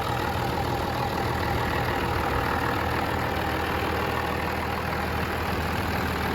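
A constant low, rumbling idle from a 700-horsepower 12-valve Cummins diesel truck engine drones on without a break in a shop, steady and fairly loud, with no voices over it.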